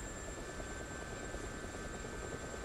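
A helicopter in the DCS combat flight simulator game, with the rotor beating as a steady, fairly faint continuous drone and a thin high whine, and no talking.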